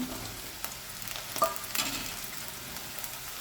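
Bitter gourd sliding into hot oil with fried onion, green chilli and cumin, giving a steady soft sizzle with a few stirring scrapes and one sharper clink near the middle; no voices.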